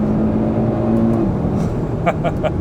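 A Cupra Formentor VZ5 2.5 TFSI 390 hp engine drones steadily and loud with traction control off, its pitch shifting as it pulls, with a few brief higher mechanical ticks near the end.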